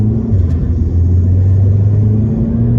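An Audi A3 8V 2.0T with a Stage 1 and DSG tune accelerates while held in second gear. A steady, deep engine drone rumbles loud and close, rising slightly in pitch, with no speech over it.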